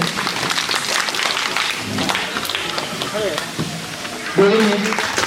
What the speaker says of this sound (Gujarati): તો આપણે બધા તાળીઓથી અભિવાદન કરીશું.